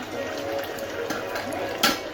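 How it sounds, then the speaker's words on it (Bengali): Mutton simmering in a pot with potatoes and a little water, a steady low bubbling hiss carrying on throughout, with a brief louder burst of spattering near the end. "যে মাংস ফুটছে"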